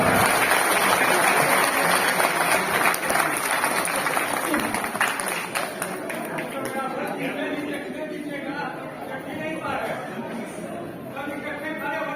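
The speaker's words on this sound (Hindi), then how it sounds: "प्लीज उठाएं, तालियां उठाइए, जोरदार तालियां ऊपर।" Loud audience applause fills a hall at a formal Hindi-speaking gathering, dense clapping that slowly fades over several seconds while a voice speaks over the crowd's chatter.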